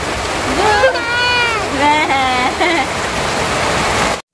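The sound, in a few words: rain falling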